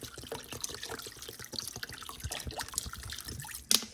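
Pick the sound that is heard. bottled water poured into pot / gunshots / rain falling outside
bottled water poured into pot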